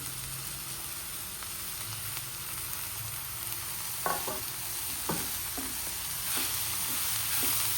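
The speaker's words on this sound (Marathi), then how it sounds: "आता ही चिरलेली भाजी आपण यात घालून छान ढवळून घेऊया" Chopped korala wild greens being stirred into cooked onion in a pan, giving a steady soft sizzle with a few light scraping taps from the stirring spoon.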